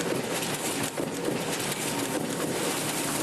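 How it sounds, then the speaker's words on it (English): Commercial printing presses running, a dense broadband mechanical roar with faint rapid rhythmic clatter, steady and moderately loud throughout, no voices. "That's the sound of our presses running."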